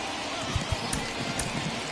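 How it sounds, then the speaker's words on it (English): Heavy rain falls in a baseball video game, a steady dense hiss of downpour with scattered faint patters and no voices. "It's raining cats and dogs out there"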